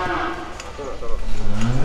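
Bali cattle, breeding stock from the Flores and Nusa Tenggara region, low with drawn-out, fairly close moos that grow louder and rise in pitch toward the end, with faint background noise.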